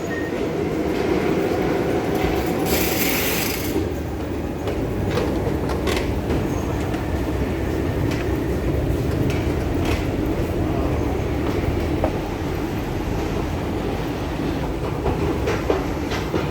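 A Madrid metro train pulls out of the station with a steady, loud rumble and rhythmic clickety-clack of wheels on rails that continues throughout.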